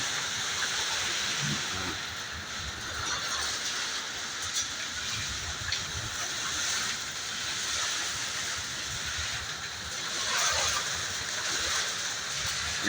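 Steady, dense hiss of heavy rain pouring down, constant and enveloping, with occasional louder splashes and gusts rising near the end.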